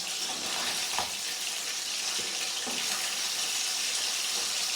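Fish frying in a pan at home, a loud spattering sizzle with a steady bubbling roar and a few sharper pops and crackles, and no voices.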